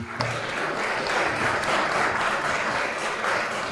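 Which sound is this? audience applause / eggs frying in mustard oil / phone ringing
audience applause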